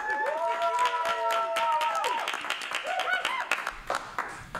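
Scattered clapping from a stand-up comedy audience, with whoops and cheering voices over it, thinning out toward the end.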